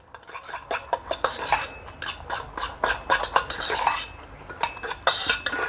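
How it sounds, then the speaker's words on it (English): A Protein Works chicken noodle super meal being stirred, with a utensil repeatedly clinking and scraping against the container in quick irregular strokes, close and fairly loud, with no talking. "Good stir so everything's covered, as you can see."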